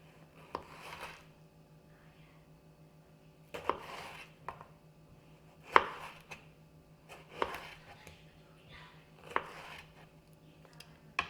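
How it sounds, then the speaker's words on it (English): A knife slices food into quarter-inch pieces on a cutting board, producing about eight distinct thuds spaced a second or two apart over a faint background hum. "we're going to try to make about 1/4 inch slices"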